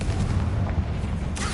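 In Hogwarts Legacy, a Confringo spell blast rumbles as a dense, loud, low explosive roar through a tomb, with a brighter burst flaring near the end.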